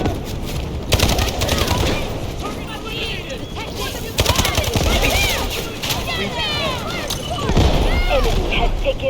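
Rapid gunfire bursts and heavy shots in the Delta Force video game crackle and boom in overlapping fusillades, loud and near, with game voices and chatter mixed through the shooting.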